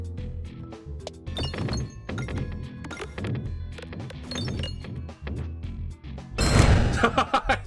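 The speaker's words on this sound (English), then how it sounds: "set off all the red bombs and win" Bombs explode in the video game Peglin, a series of punchy thuds and clinks over a few seconds, building to a louder, denser blast near the end.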